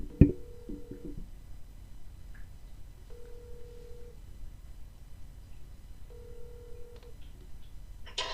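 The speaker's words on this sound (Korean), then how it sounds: "전화 연결 지금 해볼게요" A telephone call connecting: a short click and a few brief tones, then two long, evenly spaced ringback tones in near silence, with no one speaking.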